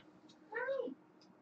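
A mother cat meows once, a single clear drawn-out call rising and falling, close and moderately loud against a quiet room with faint background noise.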